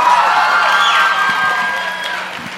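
An audience at a home gymnastics show cheers and shouts loudly, with a bright, dense crowd roar that stays strong throughout and slowly tapers off.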